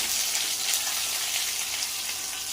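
Ginger and onion sautéing in a hot pan for wheat upma give a steady, close hiss of sizzling oil with no voices over it.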